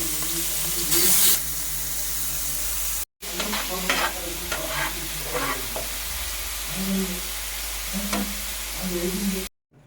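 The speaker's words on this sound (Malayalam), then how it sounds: "കൊഞ്ച് ഫ്രൈക്കുള്ള എടുത്ത് വെച്ചു" Prawns sizzle and crackle in a hot pan while a spoon scrapes and stirs them in repeated bursts, close and loud over a steady frying hiss.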